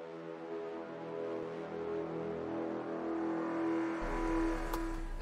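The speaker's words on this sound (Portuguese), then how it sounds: "meu amigo curitibano também acelerou aqui o Jeep Commander, o SUV de 7 lugares da marca Jeep" A Jeep Commander seven-seat SUV engine revs steadily and builds, a loud, sustained engine tone that swells over several seconds with road and wind noise rising near the end.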